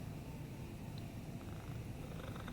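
A cat purrs on a window sill, a steady low continuous rumble close to the microphone, faint and unbroken.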